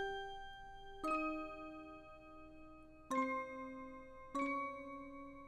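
A bell-like FL Studio synth melody pattern for a jersey club beat: three bright, sustained tonal strikes with long ringing decay, playing alone without voices.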